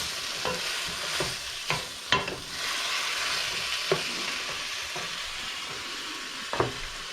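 Shrimp frying in a pan for tacos, a steady broadband sizzle running throughout with occasional sharper pops and spatters standing out at irregular intervals, close and moderately loud with no talking.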